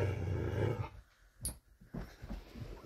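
A dog growls low and rumbling for a moment, then gives a few short, quieter grumbles and huffs nearby.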